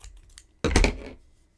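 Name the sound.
scissors cutting yarn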